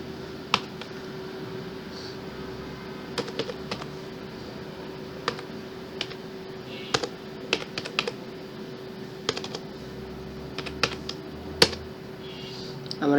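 A date of birth is typed on a computer keyboard into an Excel spreadsheet, with sparse, irregular key clicks close by over a steady low electrical hum.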